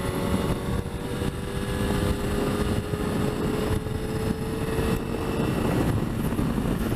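Wind roars steadily past a rider's helmet on a Suzuki GSXR750 motorcycle at motorway speed, a loud, constant rushing blast with engine drone mixed underneath and no talk.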